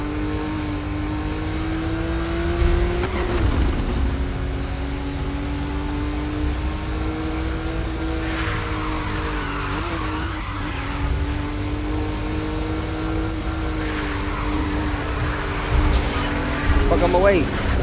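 Race cars in Need for Speed Rivals roar along with rising and falling engine revs and occasional tire squeals, under a player's talk.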